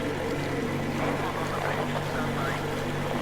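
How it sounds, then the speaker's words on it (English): A boat engine drones steadily in the video game Metro Exodus, a continuous, dense low rumble with churning water noise, close and unbroken throughout. "Kill the engine, guys!"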